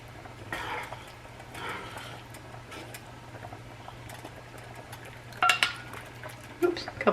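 Noodles being stirred in a pan with a cornstarch slurry, scraping and clinking softly under a low steady hum, with a few sharper utensil knocks toward the end.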